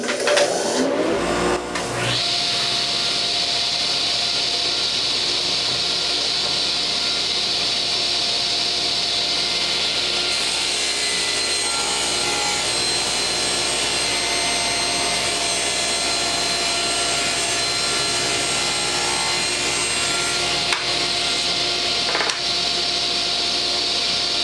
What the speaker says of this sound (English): I've set the height of the saw blade and the distance on the fence. I'm just ready to run this MDF.